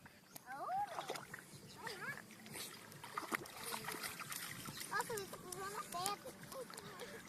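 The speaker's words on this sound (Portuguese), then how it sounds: "Nunca vi cachorro gostar de nadar." A dog swims and splashes in water while excited voices call out and chatter over the repeated sloshing and paddling sounds nearby.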